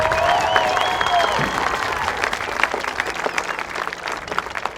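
An audience applauds the band boosters at an outdoor high school concert, with steady, close clapping throughout and a few whoops and cheers rising over it.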